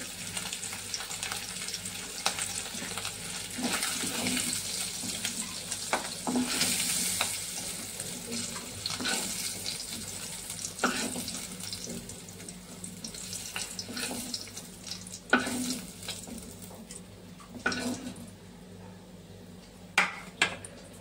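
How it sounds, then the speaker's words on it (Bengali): Paneer pieces sizzle in hot oil in a pan, a steady close frying hiss with scraping and clinks as the pieces are lifted out one by one. "পনিরগুলো ভালো করে ভাজা হয়ে গেছে, এবার আমি তুলে নিচ্ছি।"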